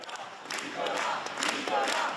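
A crowd of supporters cheers and calls out outside a home in Paris's 16th arrondissement, a sustained mass of voices and shouts that swells louder partway through.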